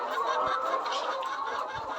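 Layer hens in a poultry shed holding about 7,000 birds, with a dense, steady chorus of clucking close by and no talk.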